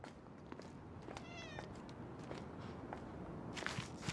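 A cat in the action game Zenless Zone Zero lets out a short, clear meow amid soft footsteps and low background ambience, fairly quiet and close.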